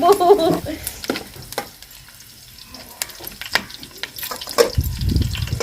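Fresh curry leaves sizzle and crackle in hot oil in a pan, mixed with stirring scrapes, with a louder burst of frying near the end.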